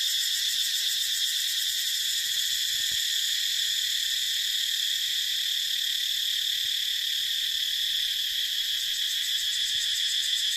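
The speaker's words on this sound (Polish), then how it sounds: "Tu sobie upodobały jakieś cykady miejsca." Dense, steady, high-pitched buzzing of several cicadas at a temple in Cambodia drones on without a break, loud and unvarying throughout.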